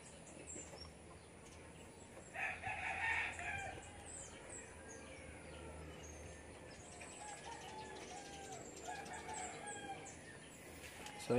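A breeder rooster crows once from a moderate distance in an outdoor loft in Del Gallego, Camarines Sur, with faint clucks and chirps of other fowl around it against a low background hum.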